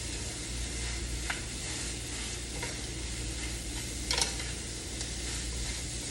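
Onion fries in a little olive oil in a small pan, a close, continuous sizzle with scraping stirs now and then, no talking.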